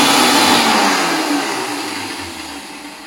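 A kitchen mixer grinder whirs loudly, grinding ginger, green chili and cumin, its motor roar steady and then gradually easing off over a few seconds.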